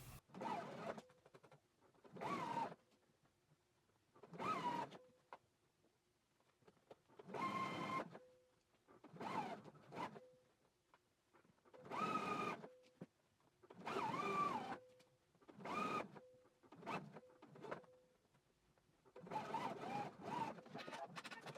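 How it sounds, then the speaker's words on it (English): A sewing machine stitches the cuffs of a garment in repeated bursts of whirring running, each a second or two long, separated by short quiet pauses, close and alone. "I can go ahead and take it to the sewing machine, and we're going to stitch it around at a 5/8 of an inch seam allowance"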